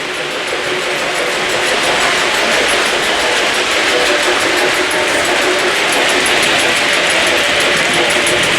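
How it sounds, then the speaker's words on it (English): Steady, dense mechanical rattling and clanking of a model Reading tank steam locomotive's side rods, like small metal rods clattering continuously, loud and close with no pauses or voices. "I don't know if you can hear that side rod clanking."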